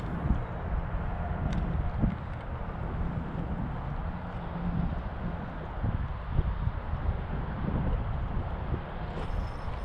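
Steady wind buffets the microphone in a continuous broadband rush beside a winter trout stream, with no voices.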